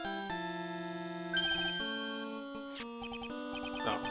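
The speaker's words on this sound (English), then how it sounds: "Oh, mobile phone. Cell phone." A mobile phone plays a melodic ringtone, a clear sequence of sustained electronic tones shifting in pitch, moderately loud and without any speech.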